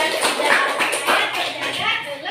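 Children in a primary classroom break into a brief burst of hand clapping lasting a couple of seconds, with young voices chattering around it.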